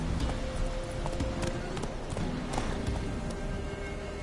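The horse Roach gallops in The Witcher 3, a steady muffled clip-clop of hooves under a constant dense wash of game background noise.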